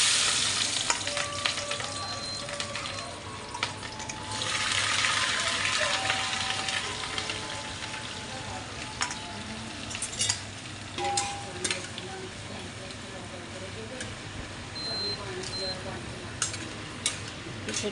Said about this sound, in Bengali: এবার আমি কিছুটা গাজর আর বিন ভেজে নেব।